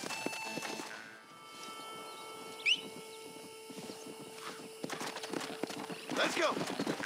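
Horse hooves clip-clopping and a horse neighing in the video game Red Dead Redemption, steady hoofbeats with a short whinny midway, heard under someone talking.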